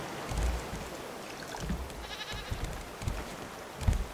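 Goats bleating in the survival game Raft: a few short, low bleats at a moderate distance, spread across the moment over a faint ambient background, with no talking.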